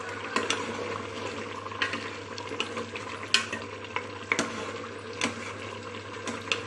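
Cumin and crushed coriander stirred in a pan for a beef stew, soft steady frying with frequent light scraping and clicking taps of a spoon against the pan, close and moderately quiet.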